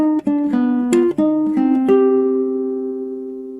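Jazz guitar running a minor scale exercise through half-diminished and minor chord shapes, a quick sequence of plucked single notes ending on a long sustained tone that slowly fades, close and alone.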